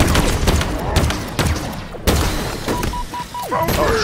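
Rapid bursts of gunfire from the video game Halo Infinite crack repeatedly in loud, uneven volleys, with game effects and tones layered in between.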